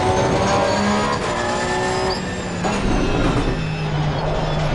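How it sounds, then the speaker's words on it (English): Porsche race car engine in Assetto Corsa Competizione at Brands Hatch, a steady loud drone with shifting tones as revs rise and fall, a brief dip midway, no talk over it. "Quite the balancing act driving this Porsche."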